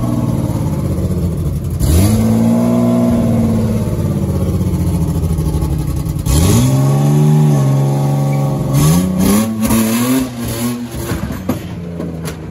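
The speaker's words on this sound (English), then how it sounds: "Patchett is going to drive it off the trailer Ryan Turek style and just fucking yeet it off" A Nissan Skyline drift car with an RB20 engine revs loudly up close as it is driven off a trailer, its engine note rising and falling in several bursts of throttle over about twelve seconds.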